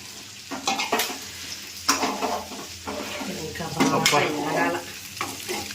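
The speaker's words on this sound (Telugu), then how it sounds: "చికెన్ మసాలా వేసుకొని కాసేపు బాగా కలబెట్టుకోవాలి" Chicken fry sizzles in a pan as chicken masala is stirred in, with irregular scraping and clinking strokes of the spoon against the metal over a steady frying hiss.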